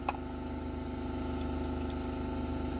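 An air compressor hums steadily while primer and paint in a spray gun for a John Deere 115 mower hiss with a soft, continuous rushing like running water, fairly quiet and unbroken.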